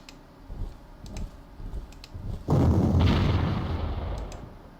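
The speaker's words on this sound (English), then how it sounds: "I'm going to bombard them down" An artillery bombardment in the Panzer Corps war game: a few faint ticks, then a heavy booming blast that rumbles loud and slowly fades over a couple of seconds.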